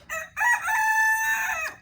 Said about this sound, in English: There's a white crested Polish rooster.